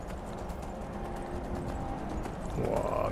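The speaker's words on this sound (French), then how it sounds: "Le cheval grimpeur." Hooves of a horse clip-clop steadily in Skyrim as it climbs rough terrain, a quiet rhythmic trot with a faint snort near the end.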